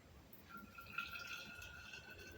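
Homemade Kenyan chai tea is poured into a thermos, a soft, steady trickle with a rising filling tone, faint and close.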